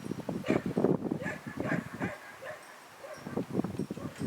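A female sheepdog herding sheep gives a series of short yips and barks, irregular and moderately close, with quieter gaps between bursts.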